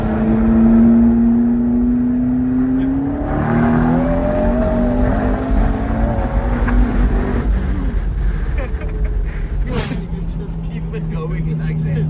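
McLaren 650S sports car engine pulling hard under acceleration, a loud rising drone that climbs in pitch, heard from inside the car with people talking over it.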